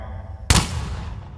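A 10mm Smith & Wesson M&P Shield 2.0 pistol fires a single loud, close shot into a Secret Service bulletproof window, a sharp crack that decays into a short ringing tail after a quiet hum.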